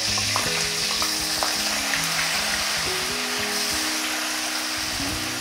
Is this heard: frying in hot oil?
yes